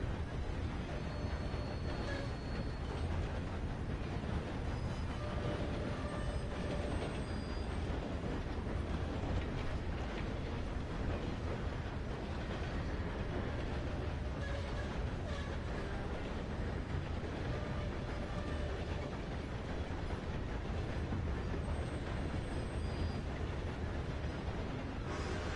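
Train rolling along rails in Red Dead Redemption 2, a steady continuous rumble and clatter of wheels that holds at an even loudness throughout with no talking.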